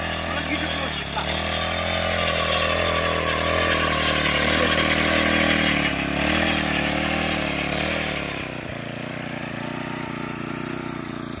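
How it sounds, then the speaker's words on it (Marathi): A farm machine for earthing up groundnut rows runs its engine in a steady, close mechanical drone that drops to a lower, quieter idle near the end. "भुईमुगाला भर लावायचं मशीन आहे"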